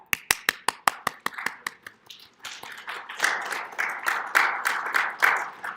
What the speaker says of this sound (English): We got some golf claps, apparently.